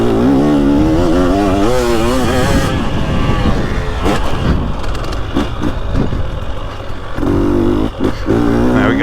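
A 2023 Husqvarna TX300 two-stroke dirt bike lugs in third gear on a vintage motocross track, its engine loud and close with a deep, wavering note that rises and falls as the throttle changes, with brief surges near the end.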